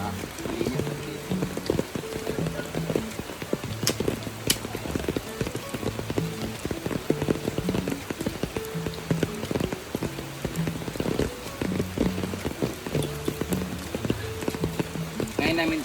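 Heavy rain pours steadily on a rural provincial property in the rainy season, a dense continuous hiss of drops striking surfaces throughout, with some low rhythmic knocking and faint voices underneath.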